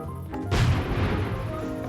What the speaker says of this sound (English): But at least for now, this right here is a working cannon.